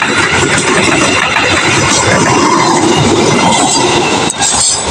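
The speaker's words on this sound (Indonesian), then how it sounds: "Kereta api Argo Muria Semarang Tawang Gambir PP melintas langsung stasiun Cikarang." Argo Muria express from Semarang Tawang to Gambir, hauled by a CC 206 locomotive, rushing straight through Cikarang station: a loud, close, dense rumble of wheels and carriages with rattling clatter and faint squeals, continuous throughout.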